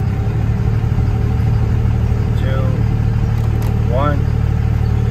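A 2nd-generation Dodge Ram 2500 with a Cummins 5.9 diesel engine idles loudly and steadily close by, a constant low rumble with faint brief squeaks over it.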